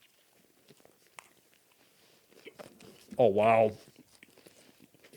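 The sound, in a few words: chewing and biting noises while eating sandwiches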